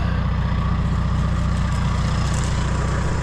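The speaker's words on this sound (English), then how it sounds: "just running that dozer down it" A bulldozer engine runs steadily on a pond dam, a constant low, heavy drone with a regular throb that holds at an even loudness throughout, close by and with no voices.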